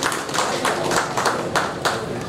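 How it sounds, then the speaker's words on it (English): Scattered hand claps from an audience at a medical conference session on hypertension, irregular and moderately loud, thinning out over a couple of seconds rather than building to full applause. "Please give a big round of applause to him."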